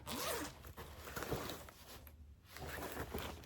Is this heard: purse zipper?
yes